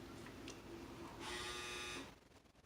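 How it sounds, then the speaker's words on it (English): A household clothes dryer hums and whirs faintly, with a brief louder mechanical buzz in the middle before settling back to a low drone. "that's a dryer"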